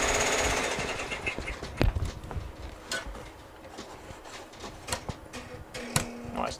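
An embroidery machine stitches a stiff duffle bag, a rapid, close mechanical clatter of needle strikes with sharp ticks and uneven bursts, running alone without talk.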